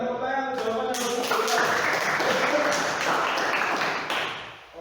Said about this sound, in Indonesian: Berikan tepuk tangan jawaban yang bagus